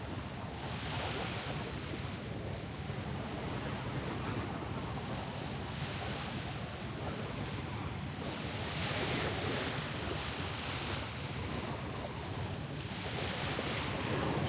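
Ocean waves wash and break steadily on an empty beach, a continuous broad roar with slow swells in loudness, mixed with gusty wind buffeting the microphone.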